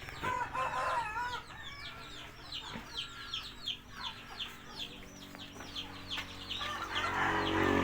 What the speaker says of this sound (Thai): ไก่